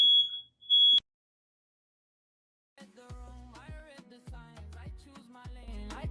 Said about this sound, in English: Fire alarm went on and was making very loud noise.